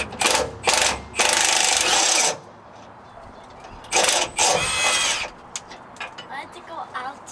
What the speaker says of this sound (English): So I got a 17 on the impact and a 17 wrench.